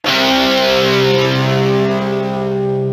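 A guitar sample played dry, without any effects, rings out as a steady sustained chord with bright harmonics, holding at an even volume throughout.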